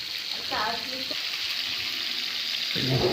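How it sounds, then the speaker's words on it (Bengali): A two-kilogram coral fish, cut into pieces rubbed with turmeric, salt and a little chili, fries in a pan. A continuous close sizzle runs throughout, with brief clinks of utensils and a voice underneath. "মাছ ভাজা চলতেছে।"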